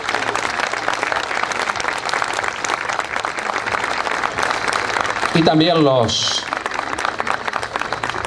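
Sustained applause from an assembled audience at a school centenary ceremony in Argentina, steady and dense for several seconds, with a voice speaking over it near the end as it fades.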